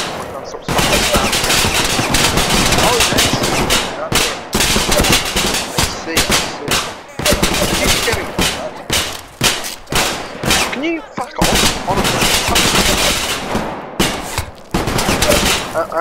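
Carbine gunfire in the Vietnam-set VR shooter Punji VR: long, loud stretches of rapid automatic fire and crackling volleys with short pauses between bursts, with voices in between.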